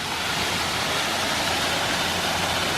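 Steady rushing water from the waterfall in an arboretum's Waterfall Garden, a constant broadband roar heard close from a deck with no voices.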